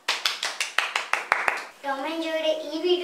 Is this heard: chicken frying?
no